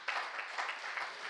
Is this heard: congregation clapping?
yes